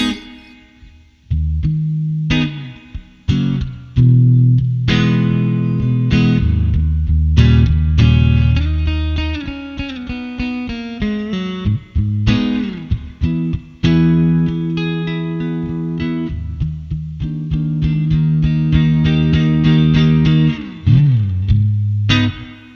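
Electric guitar playing chords and single notes through the spring reverb mode of a Joyo Atmosphere reverb pedal, with a splashy, drippy tail ringing after each phrase; loud and close, no talking.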